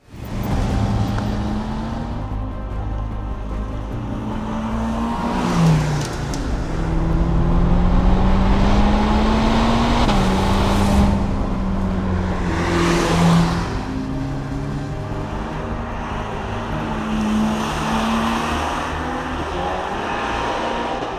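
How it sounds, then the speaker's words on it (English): A Ferrari 849 Testarossa Spider's turbocharged V8 drones loud and sustained from the open-top car, its pitch climbing and falling through several surges of acceleration and gear changes over about twenty seconds. "One of the best bits about any Ferrari Spider is this. The noise!"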